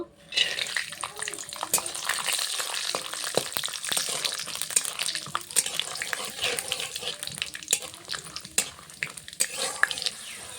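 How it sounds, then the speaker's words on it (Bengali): Peanuts fry in hot oil in a pan, a steady close sizzle and crackle running throughout with occasional sharp pops and clatters of stirring. "এখানে তেল দিয়ে দিচ্ছি তেলে কটা বাদাম ভেজে নেব"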